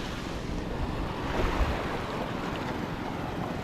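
Small, gentle sea waves lapping on a calm morning, heard as a steady broadband wash with light wind noise on the microphone, moderately loud and continuous, with no voices.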